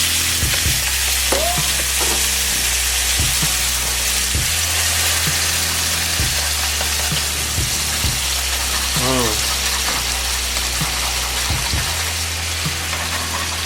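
Butter and a prepared sauce sizzle and reduce in a pan alongside pan-seared tilapia, a loud, steady frying hiss throughout with occasional clinks and scrapes of a utensil.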